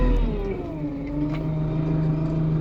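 A Lovol P4110 tractor's diesel engine revs up under throttle, its steady harmonic drone rising in pitch and then holding at a higher, loud idle close by, with no talking.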